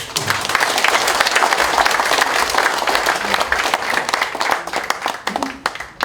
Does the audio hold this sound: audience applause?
yes